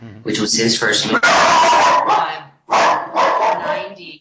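A dog barks during a talk-heavy interview, several sharp barks in two bursts, close and loud, mixed with a person speaking over it.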